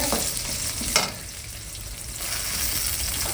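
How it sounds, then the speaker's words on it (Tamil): Sundakkai turkey berries sauté in oil in a pan, a close, steady sizzle and crackle with a brief scrape of stirring near the start. "இந்த சுண்டக்காய் நல்லா வதங்கட்டும்"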